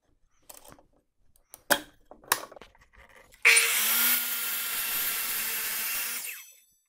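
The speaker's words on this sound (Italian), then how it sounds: "Ora proviamo a tagliare una bella tavola di rovere di dimensioni 14x5." A Metabo KGS 305 M miter saw cuts a 14x5 oak board: a few clattering knocks and handling sounds, then the motor starts with a sharp burst and holds a loud steady whine through the cut before winding down.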